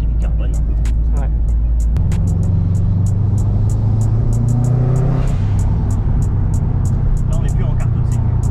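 Subaru WRX STI with turbo and dump valve and a carbon RRS steering wheel, its engine rumbling and revving steadily from inside the cabin, with a clear step up in pitch partway through and faint voices under the drone.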